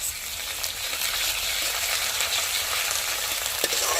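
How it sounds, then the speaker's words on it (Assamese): Continuous sizzling of garlic and ginger paste frying with pork for a spicy Assamese pork dish with hot chili, a close, even hiss with occasional faint stirring clinks. "এইখিনি অলপ ফ্ৰাই হৈ লওক ভালকৈ"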